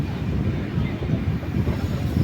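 Raptisagar Express rolls onward past Kayamkulam Junction, a steady low rumble and clatter of wheels on track heard from aboard, continuous and fairly loud, with some wind buffeting and no talk.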